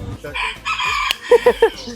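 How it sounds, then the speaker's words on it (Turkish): Feather-footed rooster crowing, then three short loud clucks close by, with people talking and laughing around it. "Bakın arkadaşlar burada paçaları var. Paçalı horoz."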